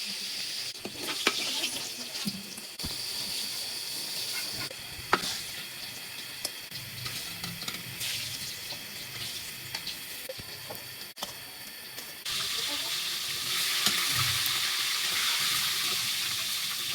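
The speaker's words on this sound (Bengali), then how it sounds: "ফোড়নে জিরা, তেজপাতা, দারচিনি, এলাচি দিয়েছি।" Cumin, bay leaf, cinnamon and cardamom sizzle in hot oil with a continuous crackling hiss, broken by occasional sharp pops and stirring clatter. The sizzle grows louder toward the end.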